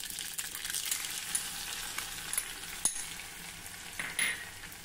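Crushed garlic, cumin and mustard seeds sizzling in hot ghee: a loud, steady, hissing fry with a few sharp pops and a small clink near the end.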